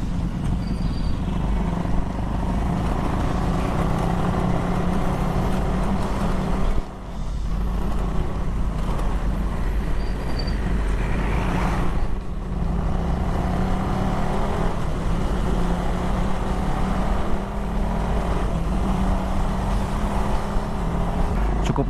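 Busy road traffic beside the Cikajang market, a steady close rumble of car and motorcycle engines with repeated passing swells, no voices.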